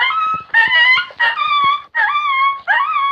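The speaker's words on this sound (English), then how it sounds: "This is a injured puppy." An electronic coyote caller plays an injured-puppy distress sound: five loud, close, high whining yelps in a ragged series, each rising and wavering, with short gaps between and no voices.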